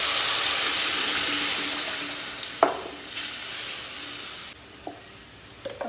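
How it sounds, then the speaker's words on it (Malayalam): Hot oil sizzling loudly under a green masala paste of ground herbs for a chicken curry, a dense steady hiss that slowly eases, with a few clinks of a utensil near the end. "അതിപ്പോൾ എണ്ണ ചൂടായിട്ട് ഇതിലേക്ക് ഒഴിച്ച് കൊടുക്കണം"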